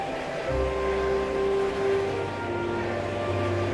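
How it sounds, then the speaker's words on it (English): An animated freight train named Diesel rumbles along steadily with a low, continuous rolling drone and a sustained horn-like tone over it, close and fairly loud, with no talking. "That's Diesel, the freight train you met earlier."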